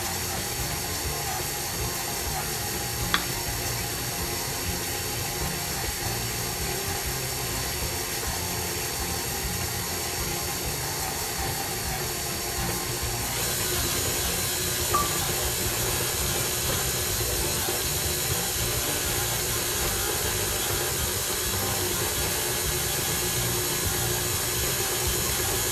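Electric mixer creaming sour cream pound cake batter, a steady loud whirring drone that holds unbroken throughout with no talk.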